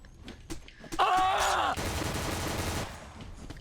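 Gunfire in Fallout, close and loud: a sustained burst of rapid shots with a loud, tonal mechanical whine at its start, tapering off near the end, with a voice briefly groaning over the fighting.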